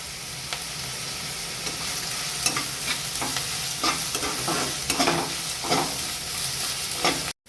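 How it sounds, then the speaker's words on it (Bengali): Onion frying with a little salt in a pan, a steady close sizzle running throughout, broken by repeated scraping stirs, with no talk. "কিছুক্ষণ পেঁয়াজটা ভাজার পরে অল্প সোনালি রং যখন ধরছে"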